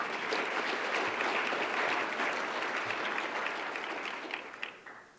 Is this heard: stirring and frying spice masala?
no